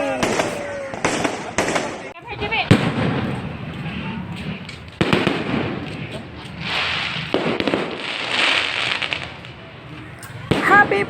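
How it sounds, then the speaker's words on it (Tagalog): Church fiesta fireworks for the feast of Saint Martin of Tours at Taal go off in a series of loud bangs and crackling bursts, with people talking and cheering throughout. "Samahan niyo ako manood ng fireworks display!"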